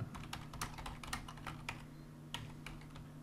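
Rapid typing on a computer keyboard, crisp clicking keystrokes in irregular bursts close by over a steady low hum, with no talk.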